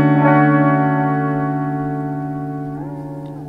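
Electric guitar through a tape echo pedal set for short slapback: one loud sustained chord rings and gradually fades with a doubled echo, its pitch bending slightly near the end, with no talking.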